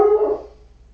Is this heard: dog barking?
yes